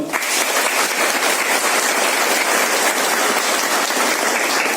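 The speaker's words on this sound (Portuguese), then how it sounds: "uma salva de palmas" Loud, sustained round of applause from a crowd at a cultural tribute event in Irituia, Brazil, an even, unbroken wash of clapping throughout.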